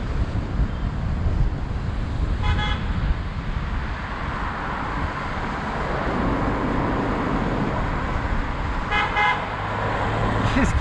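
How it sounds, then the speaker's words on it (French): Car horns honk in city traffic, heard from a Niu MQi GT 50 electric scooter in motion: two short bursts of beeping, one early and one near the end, over steady wind rush and road noise. "Qu'est-ce qu'ils ont tous à klaxonner là?"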